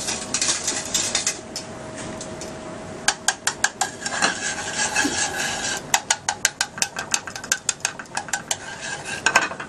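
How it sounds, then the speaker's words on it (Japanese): A utensil stirs and scrapes in a frying pan where garlic browns in olive oil, producing irregular clinks and scraping taps over a faint hiss, close and fairly quiet. "で最初にガーリック1かけら分、入れます。 ガーリックを色付けていきます。"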